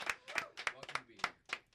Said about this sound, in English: Everybody, give him a nice round of applause.